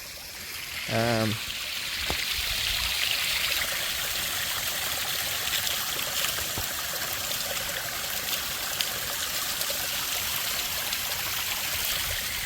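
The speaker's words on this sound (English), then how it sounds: "I love the sound of running water." Running water flows steadily and continuously over a dam, a broad rushing wash close by, with a brief voice near the start.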